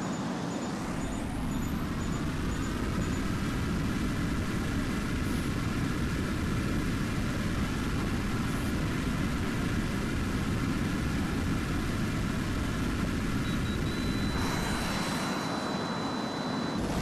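Enemy attack helicopters in Tom Clancy's HAWX drone with a loud, continuous engine roar that holds steady for the whole stretch, shifting slightly near the end as another aircraft tone passes.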